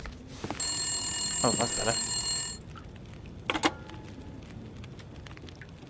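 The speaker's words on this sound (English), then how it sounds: "Answer the phone." A telephone rings in The Long Dark video game, a loud, bright electronic trill that repeats for about two seconds and then cuts off, followed by a short spoken remark.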